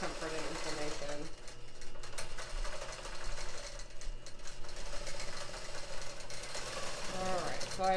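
A longarm quilting machine stitches in the ditch, giving a steady, fast mechanical whir and rapid needle chatter that runs evenly through the whole stretch at close range.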